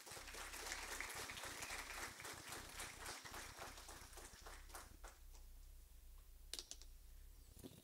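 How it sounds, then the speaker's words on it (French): A conference audience applauds at the opening session, a dense patter of clapping that thins out and fades after several seconds, fairly faint and heard at a distance. "je vous demande d'applaudir le président de Solidarnum, Daniel Monbrive."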